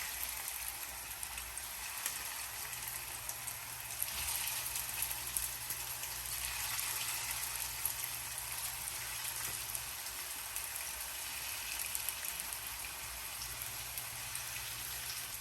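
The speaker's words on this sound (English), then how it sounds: "go ahead and start browning my meatballs" Meatballs browning in a pan over slightly above medium heat give off a steady, soft, hiss-like sizzle that runs unbroken and fairly quiet throughout.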